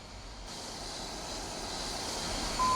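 Mirage F1 jet taxiing along a taxiway in a flight simulator game, a steady broadband engine rumble and whine holding constant and slowly swelling louder, with no talk.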